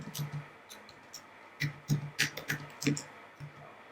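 Keystrokes on a computer keyboard typing a text title, a quiet, irregular series of light clicks and taps close by, clustered in a quick burst in the middle.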